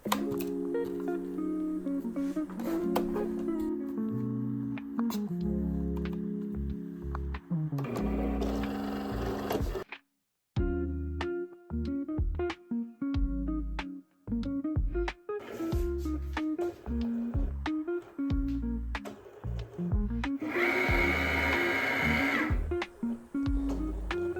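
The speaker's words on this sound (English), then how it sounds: "Make sure you leave space behind the Cricut machine because the cutting mat goes through." A Cricut cutting machine cuts stickers with steady, busy mechanical whirring, rapid clicks and motor steps. Sound runs continuously for about ten seconds, stops briefly, then resumes with denser clicking and higher-pitched carriage movement.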